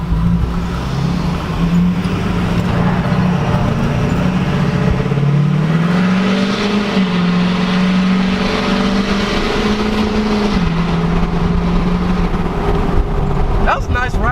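A Roush-tuned Ford Mustang engine drones steadily and swells as it passes close by, its pitch rising and falling, with people talking over it.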